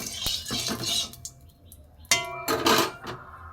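A metal utensil scrapes and clinks against a frying pan while stirring oil with dried green chilli and onion, in irregular bursts of clatter separated by short quiet gaps.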